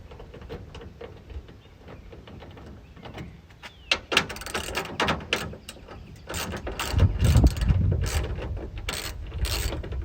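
A ratchet clicks and rattles close by as 10 mm bolts are backed out of the brake light housing on a 2016-2021 Toyota Tacoma, with mechanical ticking that gets busier and louder toward the end and no talking.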